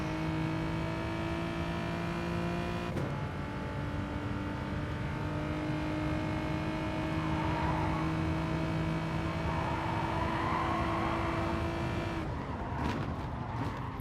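A Gr.4 race car tearing around Alsace Village in Gran Turismo: a loud, steady engine drone with rising pitch, sharp gear changes near the start and again near the end, and no talking.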